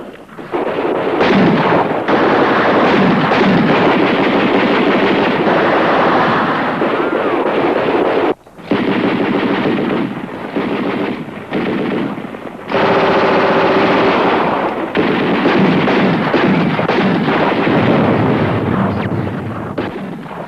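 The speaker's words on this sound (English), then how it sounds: "That is heavy automatic fire" Heavy automatic gunfire in a film battle, a loud, dense, sustained roar of machine-gun and heavy weapons fire with blasts mixed in, broken by a brief pause before resuming just as intensely.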